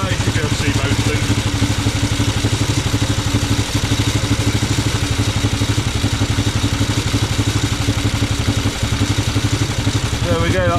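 A Norton Model 50 motorcycle engine idling close by, a steady, loud, even thumping beat with mechanical clatter that runs unbroken throughout.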